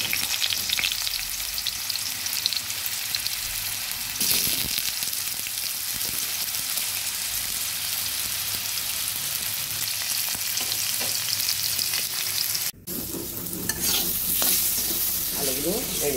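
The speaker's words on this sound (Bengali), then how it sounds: "কড়াইতে তেল দিয়েছি, তেল গরম হয়ে গেছে। এখন আমি আলুগুলো ভেজে নিচ্ছি।" Potatoes frying in hot oil in a wok, a loud, dense and continuous sizzle with occasional stirring, and a brief cut near the end followed by a brighter crackle.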